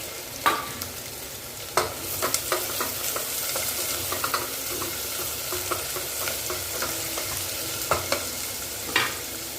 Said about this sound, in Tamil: இதில் வெங்காயம் கொஞ்சம் வெங்காயம் மேலாக எண்ணெயில் உரத்து போட வச்சுட்டு மிச்சம் வெங்காயம் எல்லாத்தையுமே சேர்த்துருங்க